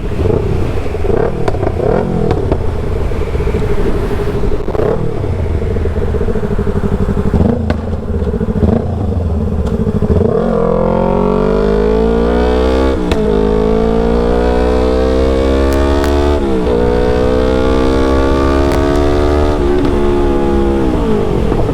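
A Yamaha R25 sport motorcycle fitted with a loud aftermarket exhaust idles roughly, then the throttle is rolled on and the engine revs up in repeated rising pulls, loud and close, with crackling as it drops back.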